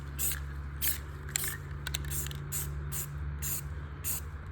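Spray gun or aerosol hissing in short, regular bursts while painting white walls on custom GM transport wheels, a steady low hum running underneath throughout.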